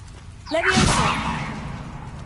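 Levioso levitation spell cast in the Hogwarts Legacy video game, a rising magical whoosh with a bright shimmering sweep that swells quickly, then fades into a soft airy tail.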